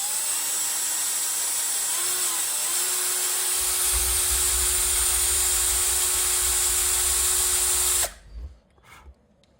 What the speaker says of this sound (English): Let's just drill out the mushroom so that the car will basically just fall